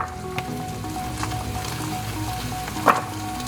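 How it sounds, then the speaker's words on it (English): Vegetables sautéing in a skillet make a low, steady sizzle with faint crackles and one sharper clatter near the end, all close by and without talk. "all of it's gonna be sauteed in a skillet"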